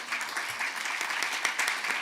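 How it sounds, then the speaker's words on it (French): An audience claps continuously to welcome a professional world champion boxer and Olympian arriving on stage, a steady patter of many hands at moderate level throughout. "Elle arrive et on l'applaudit,"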